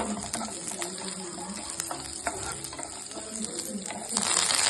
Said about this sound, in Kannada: ಉದ್ದಿನಬೇಳೆ, ಕಡ್ಲಿಬೇಳೆ ಹಾಕಬೇಕು. ಇವನು ಸ್ವಲ್ಪ ಫ್ರೈ ಮಾಡ್ಕೋಬೇಕು ಒಂಬಣ್ಣ ತಿರುಗೋವರೆಗೂ